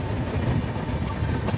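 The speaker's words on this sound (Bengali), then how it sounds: "ট্রেন ছেড়ে বেরিয়ে যাচ্ছে বর্ধমান স্টেশন" The Howrah–Kalka Netaji Express (12311) rolls out of Bardhaman station, its carriages rumbling with a continuous clickety-clack of wheels on rails, loud and close.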